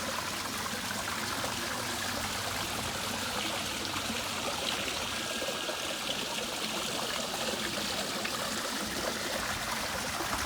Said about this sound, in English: Water's running nice.